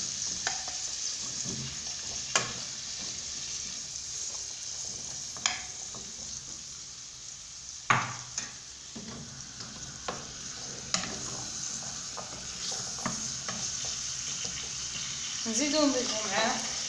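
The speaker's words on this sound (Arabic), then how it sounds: "نزيدو الحميصة نتاعنا باش تتقلى مع هذاك البصل والثوم" Chickpeas frying with onion and garlic for a chicken chtitha, a steady close sizzle with scattered sharp clinks and scrapes of stirring, and a louder bubbling burst near the end.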